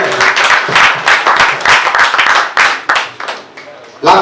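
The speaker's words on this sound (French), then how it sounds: "acclamez très fort pour notre mère" A congregation at a religious consecration service claps loudly for a mother, close rhythmic hand clapping in quick uneven bursts with voices mixed in.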